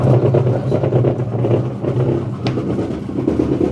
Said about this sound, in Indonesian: Masalah mesin cuci ini yaitu dia motor tapi berisik banget guys, suaranya kasar.